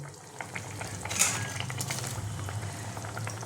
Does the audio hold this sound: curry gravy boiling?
yes